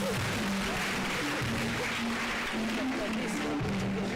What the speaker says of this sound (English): A round of applause, a round of applause.